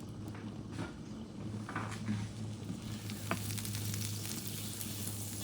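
Butter melts over medium-high heat in a small pan with a continuous soft sizzle, mixed with light stirring and faint utensil knocks throughout.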